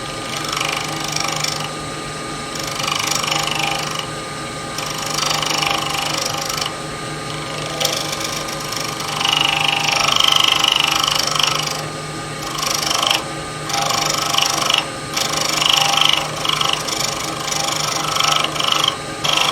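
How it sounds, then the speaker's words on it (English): A bowl gouge cuts ebony turning on a wood lathe, giving a steady loud scraping and hissing with motor hum beneath, and the cutting swells and eases in pulses as the tool moves. "So we'll go ahead and kind of shape this ebony down a little bit."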